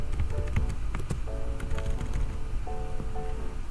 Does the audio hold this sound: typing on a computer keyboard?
yes